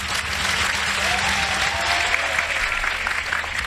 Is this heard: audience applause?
yes